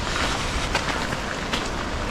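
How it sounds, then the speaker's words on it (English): Steady broadband wind rushing and buffeting outdoors near Ullapool in the Scottish Highlands, constant and fairly loud throughout, with a couple of brief stronger gusts. "It's a little bit windy."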